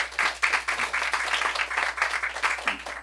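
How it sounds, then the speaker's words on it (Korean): Audience applause at a middle school youth debate event on intergenerational understanding, a steady patter of many hands clapping close by for about three seconds, with no talk over it. "여러분 박수 보내주세요"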